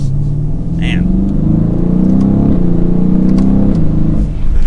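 A 2021 BMW M850i xDrive coupe's V8 pulls up to speed with a loud, steady rumbling exhaust note, the pitch rising smoothly, and a brief shift dip along the way.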